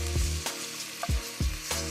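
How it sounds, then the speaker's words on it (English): Chopped onion sautéing in a hot pan, a steady close sizzle broken by several soft scraping stirs, with no voices. "I'm going to add in my onion. You want your onion to saute for 2 minutes."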